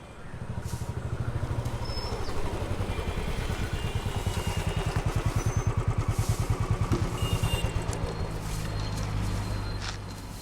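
A motorcycle engine idles and runs steadily up close, its low, even pulsing throb continuing without a break through the whole stretch, with no talk over it.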